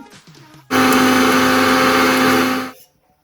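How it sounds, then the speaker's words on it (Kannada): A mixer grinder grinding spices dry, without water, starts abruptly, whirs loudly and steadily for about two seconds, then winds down and stops, with faint clatter before it. "ಎಲ್ಲ ಮಿಕ್ಸಿ ಜಾರಿಗೆ ಹಾಕಿ ರುಬ್ಕೊಳ್ಳೋಣ"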